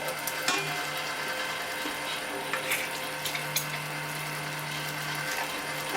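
Meat grinder working through venison hindquarter steaks, a steady mechanical whir with a low hum and scattered clicks and rattles, moderately quiet and continuous.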